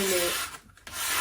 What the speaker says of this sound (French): papiers à poncer très fines. Donc ça c'est 240 et ça c'est 320. Et je vais un petit peu poncer